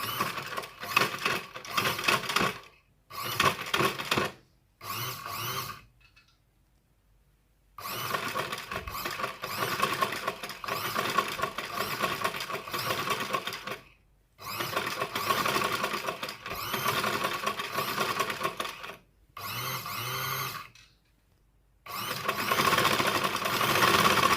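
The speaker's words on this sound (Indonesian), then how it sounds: "Setelah itu kita jahit mesin." A sewing machine stitches a sleeve, running in loud rapid mechanical bursts of several seconds each, separated by short pauses of silence as the stitching stops and restarts.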